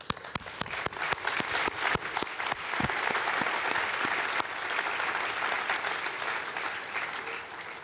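An audience at an Arianespace satellite launch event claps steadily, a burst of applause that starts with sharp individual claps and swells into a dense, sustained wash before easing slightly.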